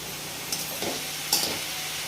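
Flat beans (chikkudukaya) cooking in a pan get stirred with a few distinct scraping strokes, each short and close, over a faint steady sizzle.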